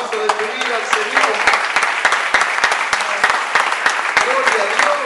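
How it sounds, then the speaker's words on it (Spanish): Sustained applause from a congregation during a Spanish-language evangelical church service, a dense steady wash of clapping with sharp individual claps standing out, close and loud for the whole stretch. "Dale el mejor aplauso de tu vida al Señor."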